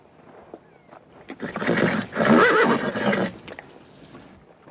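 A horse gives a loud, close whinny that rises and shakes before trailing off, with faint hoof clatter and rustling before and after.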